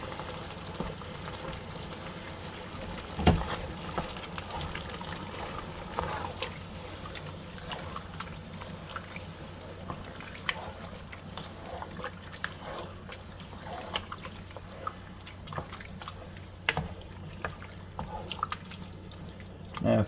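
Chili with broth is stirred in a pot outdoors, giving faint, irregular wet scrapes and drips against a low background hum, while a voice speaks intermittently.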